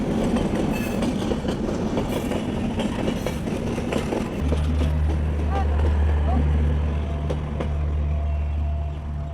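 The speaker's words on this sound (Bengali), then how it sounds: "সাগরদাড়ি এক্সপ্রেস যেটা রাজশাহী থেকে খুলনার দিকে যাচ্ছে" The Sagardari Express, a passenger train running from Rajshahi toward Khulna, passes close by at low speed near a station, a loud continuous rumble and clatter of cars on the rails with a steady low drone, while someone talks over it.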